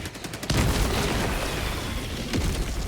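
A big in-game blast as an anti-tank charge goes off during a Helldivers-style bug fight, a loud boom at about half a second followed by a sustained rumbling roar of explosions and gunfire, with another heavy impact near the end.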